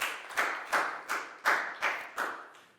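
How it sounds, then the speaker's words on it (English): Rhythmic group clapping in a Year 4 English classroom, about seven evenly spaced loud claps in unison, close and clear with no talk. "High five and a big round of applause for Pak Bung, please, guys."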